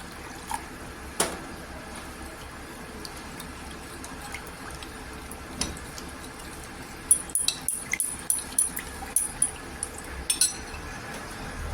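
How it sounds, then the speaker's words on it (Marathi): Ice cubes clink against a glass of cold lemon water, a quick run of bright, close knocks and taps after some earlier isolated clinks, with no talking. "आणि याच्यामध्ये बर्फ टाका"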